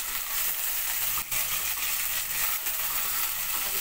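Chicken pieces frying in a pan with oil for an arvi chicken dish, giving a steady loud hiss and sizzle with a few brief stirring clatters, no voices.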